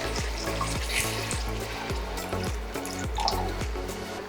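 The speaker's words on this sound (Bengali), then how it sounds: "এবার এর মধ্যে দেবো আমি জল" Water is added to a pan of Bengali doi katla fish curry gravy, already mixed with sugar. It makes a steady sizzling, bubbling wash with rhythmic soft taps, and no one speaks.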